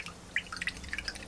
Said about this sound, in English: Rinse that brush.